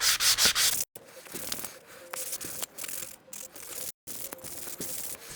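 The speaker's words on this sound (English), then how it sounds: "you just want to lightly hit it with this sanding block one time" A sanding block rubbing lightly over shellac-coated wood, repeated close scratchy strokes broken by brief pauses, steady and without talk.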